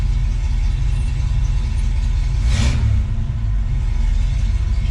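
A 1966 Ford Mustang engine with a newly installed electric fuel pump runs steadily just after starting, a loud, even low rumble throughout with a brief brighter swell midway.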